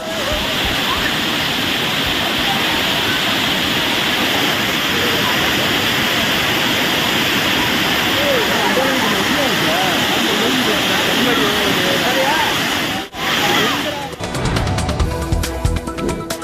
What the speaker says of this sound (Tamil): வெண்ணியாறு உள்ளிட்ட பகுதிகளில் பெய்த கோடை மழையால் சுருளி அருவியில் செவ்வாய்க்கிழமை வெள்ளப்பெருக்கு ஏற்பட்டது